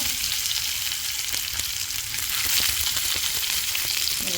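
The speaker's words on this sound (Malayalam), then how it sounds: "കടുക് കൊടുത്തു, അതിലേക്ക് പച്ചമുളക്, കരിവേപ്പില, സവോള" Mustard seeds, green chillies, curry leaves and sliced onion fry in hot oil for stir-fried small bitter gourd, giving a steady, dense sizzle with faint crackles throughout, close and continuous, no voices.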